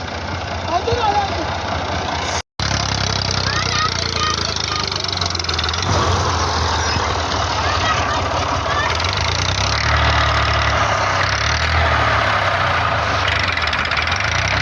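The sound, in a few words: tractor engine running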